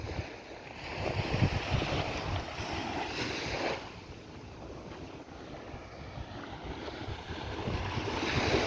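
Waves and wind at Brandons Beach in Barbados make a steady broadband rush with surf swelling and easing, heavy wind buffeting on the microphone, and no voices.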